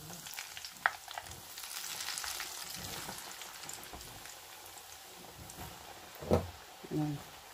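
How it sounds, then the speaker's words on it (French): Bread croquettes stuffed with turkey and vegetables fry in oil with a faint, steady sizzle, broken by a few soft clinks and stirring knocks toward the end. "Nous continuons la friture des autres jusqu'à épuisement du stock."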